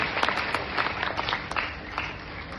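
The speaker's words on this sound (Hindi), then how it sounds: "एक बार उनके लिए तालियां बज जाए जिन्होंने भी ये किया है।" Hall audience at a Hindi talk on revolutionary Shyamji Krishna Varma clapping for those who put up his portrait, a dense round of applause with a few louder claps standing out.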